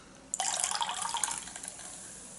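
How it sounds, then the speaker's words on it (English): Water squeezed from a soaked makeup sponge, a Poundland Make up Gallery blender or Beauty Blender, spatters and trickles into a sink in a close burst that tapers off over about two seconds. "So you can see how much water is going to come out of this actually."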